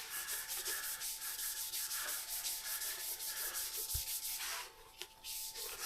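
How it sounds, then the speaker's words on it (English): Rhythmic back-and-forth scrubbing of wet sanding on an Indian Chief Darkhorse motorcycle undertail part, steady strokes repeating about twice a second, close up, with a faint constant hum behind it. "wet sanding is going to give you a much smoother finish"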